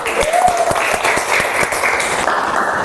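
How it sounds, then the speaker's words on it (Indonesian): A class claps together after a group presentation in a school classroom, dense close applause sustained steadily throughout. "Tepuk tangan."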